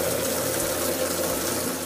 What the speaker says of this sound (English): Fill up your basin with some warm or cold water.